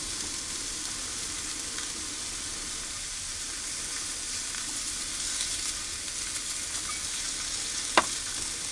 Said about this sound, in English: those mushrooms are cooking up really nice